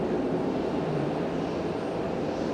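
Embraer 175 airliner of Fuji Dream Airlines at Fukuoka Airport, a steady, loud engine roar heard throughout with no talking.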